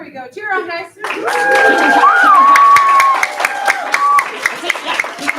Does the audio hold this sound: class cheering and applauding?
yes